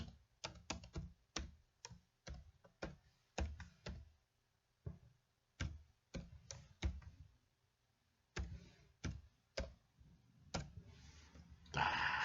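Irregular hunt-and-peck computer keyboard typing, clusters of sharp key clicks with short pauses between bursts, close up and fairly quiet, no talking.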